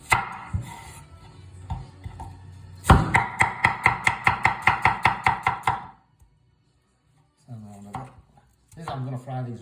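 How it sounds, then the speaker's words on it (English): A knife chops onions on a board in a rapid run of about a dozen sharp, evenly spaced strokes, following quieter earlier cuts, with a person talking before and after the chopping in a home kitchen. "so I'm going to chop the onions up"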